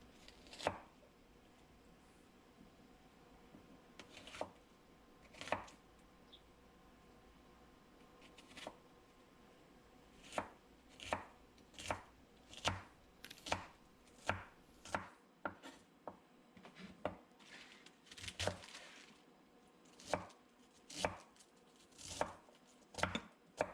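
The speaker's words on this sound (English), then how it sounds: "These are the veggies I just chopped up." A handmade, traditionally forged Japanese knife chops vegetables on a board, giving crisp, close knocks in uneven bursts that grow more frequent and regular toward the end.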